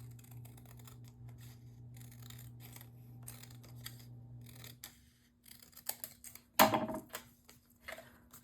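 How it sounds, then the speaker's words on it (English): Scissors trimming the center section out of a patterned paper mini album page, with soft handling rustles and a few crisp snips building to one sharp, loud cut near the end, close up with no voices. "Then I'm just going to take my scissors, or you can use your paper trimmer if you prefer to use that, and I'm going to remove this center section."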